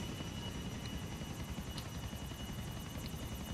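A helicopter in the video game GTA IV gives off a steady, loud rotor chop and engine whine that holds evenly throughout, with no talking over it.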